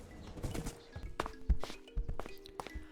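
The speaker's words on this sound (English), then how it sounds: "we took our new horse exploring" Horse hooves clopping while riding through a Minecraft plains biome, irregular thudding steps at close range with a few louder thunks, alone with no talk.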